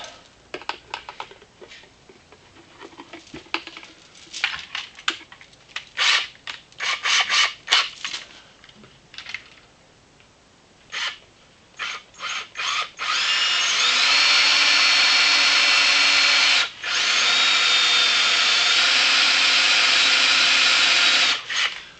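Scattered clicks and short tool bursts are followed by a long, loud, high-pitched whine of an electric drill with a dull, oiled bit grinding steadily into metal on a woodstove, with one brief pause.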